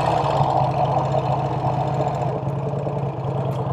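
A 1951 Vincent Rapide motorcycle engine runs steadily in second gear, a loud continuous mid-pitched throb with a rapid knocking pulse that holds throughout.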